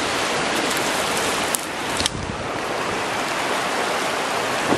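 Mountain water of Exshaw Creek near Canmore rushes steadily nearby, a loud, dense, unbroken hiss with a couple of brief knocks partway through and no talking.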